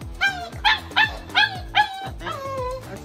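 A puppy at a kennel barks in five sharp, close yips in quick succession, then lets out a longer whining whimper.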